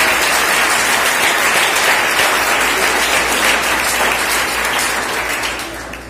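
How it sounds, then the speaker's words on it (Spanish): Loud, dense congregation applause fills a church service, a continuous roar of many clapping hands close by, holding steady before tapering off in the last second. "Bríndale un aplauso porque Él se lo merece."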